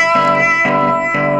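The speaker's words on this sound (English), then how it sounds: "you can hear I have a phaser on now" A guitar played through a phaser effect on a Headrush MX5 multi-effects unit, with sustained, swirling tones swelling in three loud pulses.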